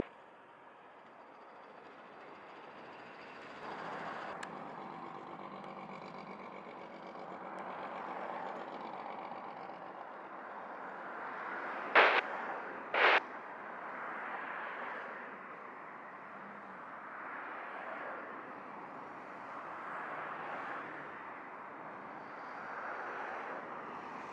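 A Southwest airliner takes off from runway 25 at Montego Bay Airport, Jamaica, producing a steady, broad engine roar that swells and fades in waves. Two brief sharp clicks cut through it midway.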